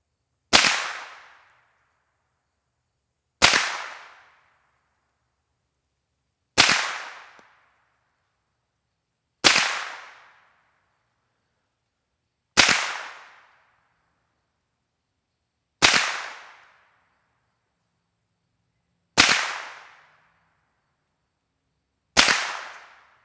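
Eight evenly spaced 9mm shots from a 6-inch UTAS Mini 9 fitted with a Yankee Hill R9 suppressor, each a single sharp report about three seconds apart, loud and close with silence between.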